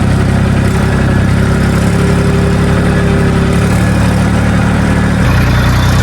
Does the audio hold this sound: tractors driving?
yes